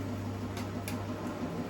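A washing machine runs steadily indoors, its constant low motor hum and faint rhythmic churning filling the room with no one talking.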